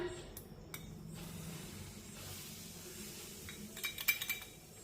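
A spoon clinks and scrapes in a bowl while hot oil is worked into jowar flour dough, quiet soft mixing with a few brighter metallic taps near the end.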